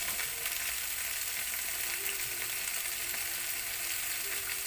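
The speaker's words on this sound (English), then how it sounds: "So first, just have to cook our crabs" Crabs cook in a hot pan for a Sprite and oyster sauce seafood dish, giving a steady, even sizzle that holds at the same level throughout with no voices.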